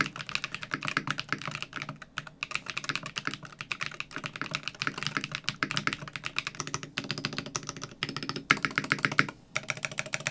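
Rapid, continuous typing on a custom mechanical keyboard with foam padding, with dense clacky keystrokes and occasional heavier thocks, close up and steady throughout with no talking.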